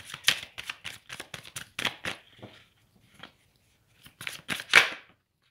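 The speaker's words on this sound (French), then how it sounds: "Je vais prendre 3 cartes." Tarot cards riffle and flick in quick bursts as they are handled and drawn from the deck, crisp close-up papery shuffles that break off into a brief quiet before a few more snaps.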